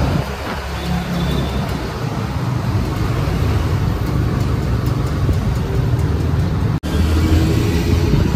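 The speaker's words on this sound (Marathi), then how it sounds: "ही रिक्षा आली बघा." An auto rickshaw goes by on a road amid constant loud traffic rumble, a steady engine drone filling the whole stretch at close range with no voices.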